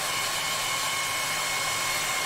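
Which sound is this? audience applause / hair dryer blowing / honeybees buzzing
hair dryer blowing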